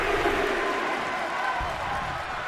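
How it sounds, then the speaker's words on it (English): A virtual arena crowd roars during a WWE 2K23 wrestling match, a steady, dense wash of cheering and noise holding loud throughout without a break. "The sound of this crowd is deafening"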